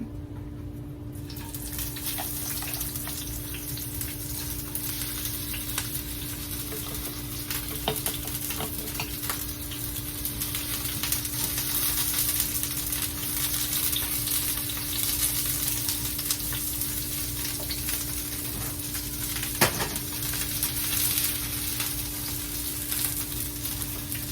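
Onions fry for fajitas in a hot pan, giving a continuous steady sizzle with occasional stirring scrapes and a low hum behind, close and even throughout with no talking.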